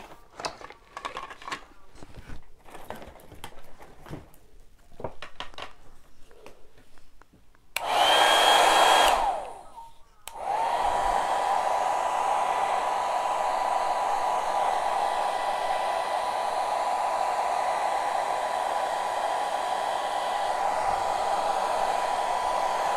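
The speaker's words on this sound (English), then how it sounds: "Now I'll blow dry the Hello Snow for a minute." A hair dryer blows steadily on snow paste spread over a snowman wreath, starting abruptly after a brief louder burst and running loud and continuous to the end, with no talk.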